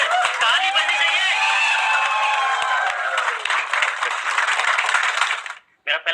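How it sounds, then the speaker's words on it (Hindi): An audience applauds a welcome for a guest at an interview event, a dense sustained wash of clapping that stays loud for several seconds before cutting off abruptly near the end. "ताली बजनी चाहिए।"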